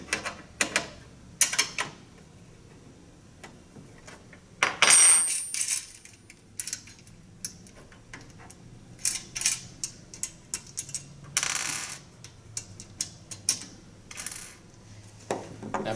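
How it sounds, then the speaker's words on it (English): A 7/16 wrench works a nut loose from a bolt on a Champion door-type dishwasher rack during a pass conversion, giving sharp metallic clicks and clinks in irregular bursts, close and fairly loud, with no talking. "I'm going to take my 7/16 wrench and I'm going to loosen up the nut."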